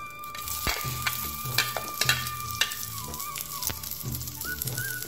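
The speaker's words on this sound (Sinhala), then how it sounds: "තෙම්පරාදුව සඳහා තෙල් ටිකක් දාගෙන කරපිංචා ටික දාගන්නවා" Curry leaves frying in oil for tempering crackle and sizzle steadily up close, with repeated spoon strokes and light clinks against the pan.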